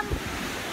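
Sea waves wash over the beach, a dense roaring surf rush with gusty wind noise on the microphone, loud and close throughout this brief moment.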